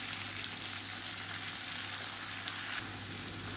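Tomato and onion frying in a pan for a spicy chutney, a steady, even sizzle that stays close and fairly loud throughout with no voices.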